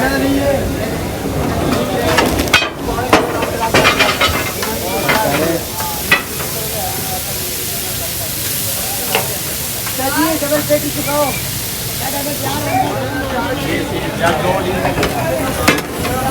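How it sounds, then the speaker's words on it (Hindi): Steak sizzles loudly in several pans on a busy Lahore street-food griddle, a constant hiss and crackle broken by scraping and clattering of utensils, with talk and bustle in the background. "ये जी स्टेक तैयार होने लगी है।"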